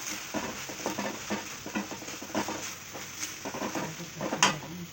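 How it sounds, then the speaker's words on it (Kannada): Ivy gourd (tondekai) stir-fry cooking in a pan, a soft sizzle under repeated scraping and stirring strokes of a spatula against the pan in an irregular rhythm, with a sharper metallic clink near the end. "ಇದು ತೊಂಡೆಕಾಯಿ ಪಲ್ಯ ಬೇಯ್ತಾ ಇದೆ"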